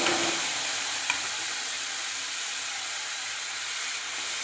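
Cauliflower florets, still a little wet, hit a hot spice tempering in the pan with a loud, dense, steady sizzle that hisses on without letup.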